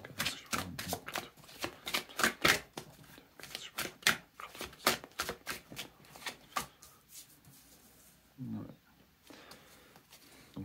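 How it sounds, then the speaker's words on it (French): Tarot cards shuffled in a rapid run of crisp riffling snaps, then slowing to a few softer slides as a final card is drawn, with a voice talking over parts of it. "Je prends une dernière carte."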